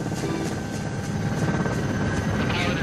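Steady, loud rotor-and-engine drone of an aircraft coming in to land on an island airstrip where a hut has been built, a continuous close roar with no speech.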